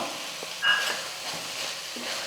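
Ground coconut, green chili and ginger paste sautés with vegetables for a poriyal, giving a steady close sizzle with light stirring scrapes and a few soft knocks.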